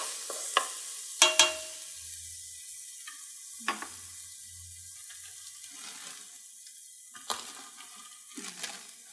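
Garlic toasting in a pot, a soft sizzle broken by scattered clinks and scrapes of stirring, with a few sharper knocks near the start, fairly close and without talk.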